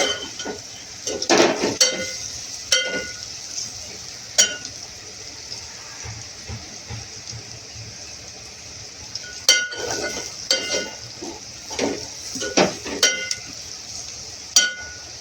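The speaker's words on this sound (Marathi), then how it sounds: "आता याच्यामध्ये मी पनीर टाकते" Fried paneer tipped into cooking vegetables in a pan and stirred, with intermittent clinks and scrapes of a spoon against metal over a low sizzle, quiet gaps between bursts of stirring, no talking.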